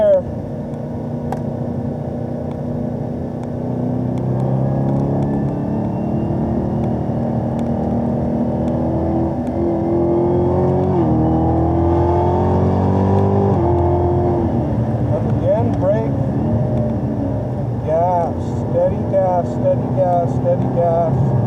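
Race car on a track held at steady throttle, engine droning at a constant pitch with road and wind noise throughout, while a driving instructor talks over it.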